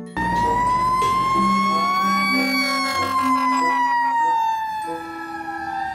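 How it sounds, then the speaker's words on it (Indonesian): A red toy fire truck with a ladder sounds its electronic siren, a loud, close wailing tone that rises and falls, with harmonics, and carries on alone throughout. "ternyata ini mobil pemadam kebakaran"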